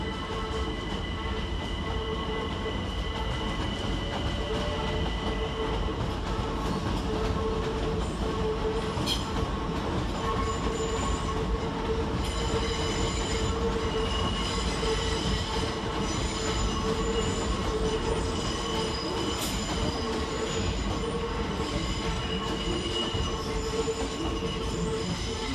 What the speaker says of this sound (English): next to depart on the far side is 376006 and 376022 with the 1001 Southeastern Circular service to Slade Green